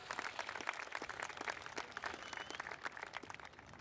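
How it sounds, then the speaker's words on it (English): A crowd at a high school graduation ceremony applauds the parents with sustained, moderately distant clapping from many hands, steady throughout with no voices. "let's give our parents a round of applause"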